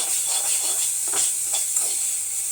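Beans poriyal being stirred with salt in a pan, giving a steady close sizzle with soft scraping strokes at an even pace and no voices.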